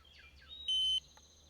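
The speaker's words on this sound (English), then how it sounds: "press and hold the center key until the unit beeps" A single sharp, high electronic beep from an RV tire pressure monitor unit, lasting about a third of a second, loud and clean against a quiet background with faint chirpy tones before it.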